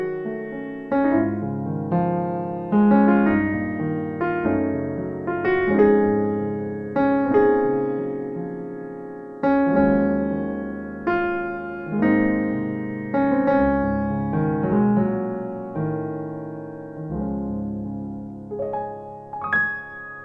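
A keyboard plays a steady chord movement in a talk-music style, with rolling, sustained chords rising and falling in repeated phrases. It is heard alone and clearly, with no voices.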